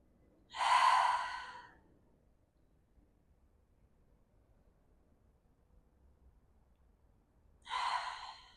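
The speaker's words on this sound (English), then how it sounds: "Come back to those deep breaths." Deep breaths drawn during a yoga twist in a yogalates session, two breathy exhalations, one near the start and one near the end, separated by quiet, close and clear with no talk.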